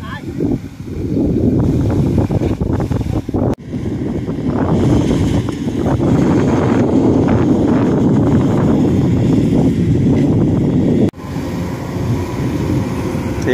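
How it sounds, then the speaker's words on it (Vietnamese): Strong wind buffets the microphone outdoors, a continuous loud rumbling roar that drops out briefly twice before returning. "gió"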